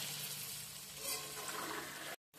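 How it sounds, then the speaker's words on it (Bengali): Potatoes fry in oil with turmeric and salt, a faint, even sizzling hiss that runs steadily, then cuts out briefly just before the end. "আলুগুলো আমি ভালো করে ভেজে নেব।"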